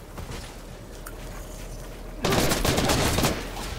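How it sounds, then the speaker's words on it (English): Gunfire in the video game Fortnite: after a quiet stretch, a sudden loud burst of rapid shots rattles for about a second, then fades. "Who's shooting at me?"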